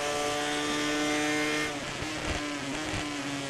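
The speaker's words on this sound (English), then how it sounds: "I do like the sound that it makes when you change down gears." A MotoGP 17 racing motorcycle screams at high revs, then drops pitch as it changes down through the gears, with a few rough pops and burbles as the engine braking sets in, loud and close.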